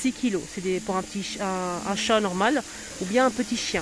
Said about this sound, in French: en train de nettoyer le sol avec une machine qui fait vraiment du bruit